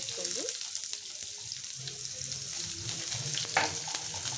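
Peanuts and chopped onion fry in hot oil in a pan, giving a continuous soft sizzle with light scraping and a brief clatter near the end, fairly quiet and close.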